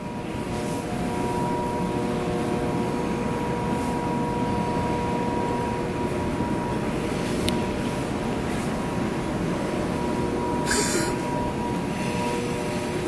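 A Norfolk Southern manifest freight train led by CSX locomotives rolls past in Roanoke with a steady, sustained rumble and faint rail squeal, continuous and fairly close throughout.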